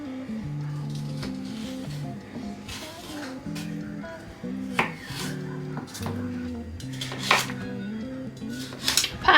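Carrots being chopped with a knife on a board in a home kitchen, irregular knocks at a moderate pace, close by, over a steady background hum with some voice heard.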